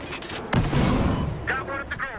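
A grenade explosion in the Battlefield Heroes game, a sudden loud blast with a rumbling tail amid other combat noise, while players talk over it.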